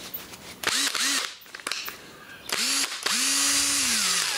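A Makita electric drill with new brushes whirs in short bursts, spinning up and winding down several times before running steadily at full speed, loud and close.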